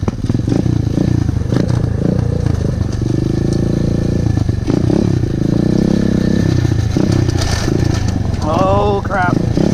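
Pit bike engines revving and droning steadily while riding in the hills, loud and close, with clattering over rough ground and people talking over the engine noise.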